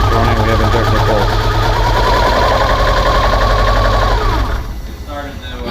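A 2013 Subaru WRX Limited 2.5-litre engine, which had refused to start, runs just after starting as a loud, close, steady rumble with a pulsing idle beat. It cuts off near the end.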